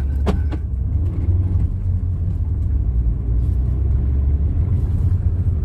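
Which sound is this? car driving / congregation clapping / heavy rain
car driving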